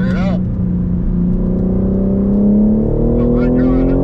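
A BMW M car on a racetrack accelerates out of a corner, its engine note climbing steadily in pitch and loudness from inside the cabin, with brief speech at the start and end.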